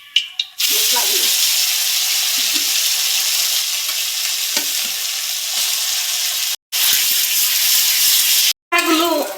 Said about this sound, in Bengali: মশলাগুলো আমার ভাজা হয়ে গেছে, এখন আমি লাল লাল করে ভাজা হয়ে গেছে